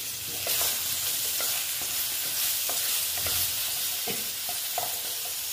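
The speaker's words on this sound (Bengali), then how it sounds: "একটু আস্তে আস্তে ভাজা হতে দিচ্ছি" Bitter gourd fries slowly in a pan on low heat, giving a continuous soft sizzle broken by irregular scrapes and clacks of a spatula stirring the pieces, with no voices.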